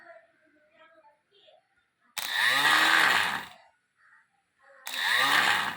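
A small 12V DC motor generator powered from a battery whirs up in two separate bursts, a longer run and then a shorter one, each loud with a rising mechanical whine, with quiet pauses between them.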